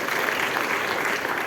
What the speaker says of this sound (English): give him a round of applause for being here